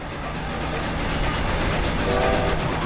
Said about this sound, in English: That train just sped up.